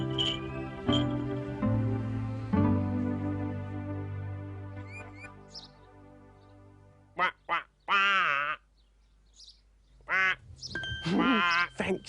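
A duck quacks in a run of loud, nasal calls near the end, following a stretch of sustained tonal music; the quacks come in short separate bursts, close and clear.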